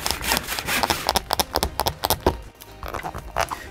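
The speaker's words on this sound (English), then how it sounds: "as you're sawing, it goes so much faster." A small saw cuts rapidly through a Treasure X alien toy, giving a quick series of rough rasping strokes, close and fairly loud, with no talking.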